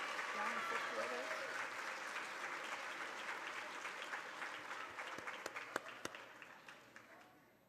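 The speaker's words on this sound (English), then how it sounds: "We could have another round of applause for these young fifth graders." A crowd applauds warmly, the clapping steady at first and then gradually thinning out and fading toward the end.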